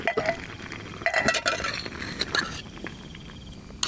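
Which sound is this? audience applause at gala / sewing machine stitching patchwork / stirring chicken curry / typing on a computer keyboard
stirring chicken curry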